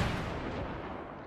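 A single heavy gunshot booms close and loud, its rumbling report decaying over about a second with no voices.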